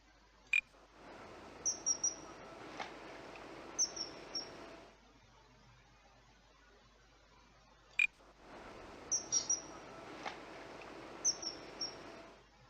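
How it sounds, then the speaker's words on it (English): Grey heron calls in a video game: a few short, sharp cries recur in two bursts over a steady low ambient bed, with a quiet gap between them. "It's quite depressive sound. Grey heron."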